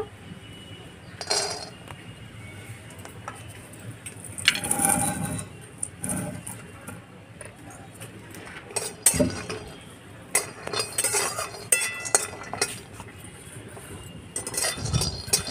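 Peanuts frying in a hot wok, heard as repeated metallic clinks and scrapes of a utensil against the pan with a faint sizzle underneath, in bursts rather than a steady hiss.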